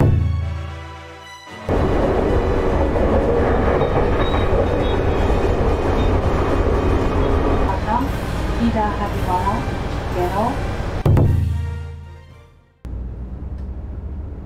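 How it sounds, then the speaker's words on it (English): A new Japanese express train, newly debuted on a route to tourist sites, rumbles steadily while departing, with a loud, continuous roll and brief announcement-like voices over it before the noise cuts off near the end. "Now it is time for the train to depart."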